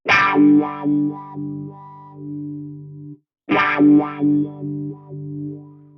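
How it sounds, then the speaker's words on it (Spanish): Electric guitar through a wah-wah effect in a free VST amplifier plugin, two sustained distorted chords each swelling and sweeping in tone, separated by a brief silence. "Por ejemplo, podemos agregar un efecto de wah-wah."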